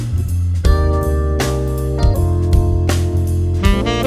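A saxophone plays a pentatonic lick in triplets, with clear repeated note attacks in a steady rhythm over a sustained low tone, loud and close.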